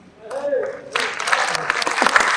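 Audience at a Hindi poetry recital breaks into a burst of clapping that swells and continues, close and lively, with a voice heard briefly before and over the start of the applause.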